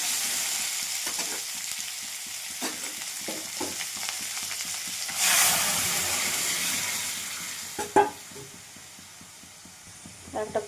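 Radish and tomato hitting hot oil for a pea dal set off a close, steady sizzle with spoon strokes tapping and scraping the pan, and a brief louder hiss midway, while a voice talks at times.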